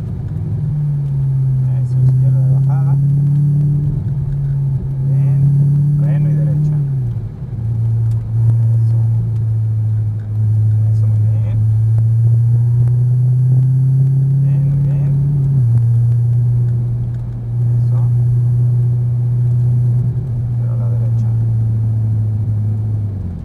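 An exotic sports car driven hard on a track, its engine droning loudly and steadily with rising pitch sweeps as it accelerates, dropping back between gear changes, while an instructor talks over the noise.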